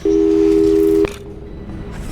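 A steady telephone tone in Portal 2 plays loud and unbroken for about a second, then cuts off abruptly, leaving quiet room hum.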